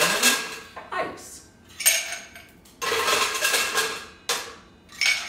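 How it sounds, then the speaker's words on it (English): Ice cubes tumbling into a metal cocktail shaker for martinis: several loud bursts of clattering, rattling ice in irregular scoops, with short pauses between pours, close up. "So we shall begin with a shaker. Adding ice."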